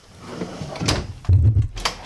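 A small pull-out hamper in a 2020 Tiffin Allegro 34PA motorhome slides open with a brief soft scrape and a muffled thump near the end.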